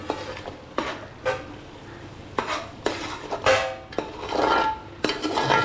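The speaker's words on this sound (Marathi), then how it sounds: "आता आपण झाकण काढणार आहोत आणि बघा मस्त उकाला सुटलेला आहे" A pot of oyster biryani masala with its lid taken off, followed by loud close metallic clanks and stirring scrapes against the pot, with a steady simmering bubble underneath.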